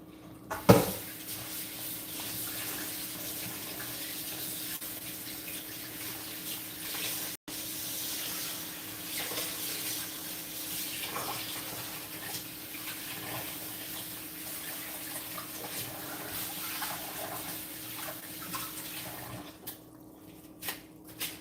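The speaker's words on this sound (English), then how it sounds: "We're gonna remove the water and put in water, clean it again." Water runs and splashes as rice is rinsed in a bowl for Haitian rice, with a steady close trickle and swishing, and a sharp knock near the start.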